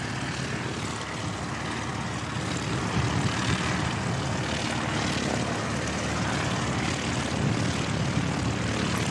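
A propeller airplane comes in to land at Christchurch Airport, its engine a steady broad droning roar that holds loud and even throughout.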